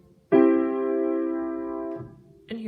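A single plagal cadence chord on piano, played without inversion, rings out for well over a second with no talk, followed by the onset of another chord near the end.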